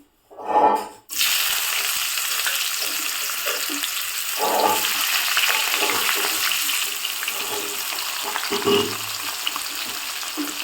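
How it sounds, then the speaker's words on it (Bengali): Chopped onions hit hot oil in a heated wok and erupt into a loud, dense sizzle that carries on steadily, with a few bumps of stirring and handling knocks along the way. "আমার কড়াই গরম হয়ে গেছে, তেলও গরম হয়ে গেছে, এখন আমি পেঁয়াজগুলো দিয়ে দেব।"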